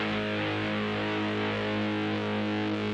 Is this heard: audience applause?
no